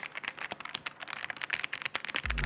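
Rapid, close typing on an AJAZZ AK870 modular mechanical keyboard with a soft, muted keystroke sound, a fast, uneven stream of clicks with no talk.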